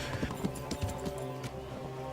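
Horse hooves clip-clop at a steady gallop in the medieval game Kingdom Come: Deliverance, a rhythmic, fairly close beat of sharp hoof strikes over a continuous low rumble.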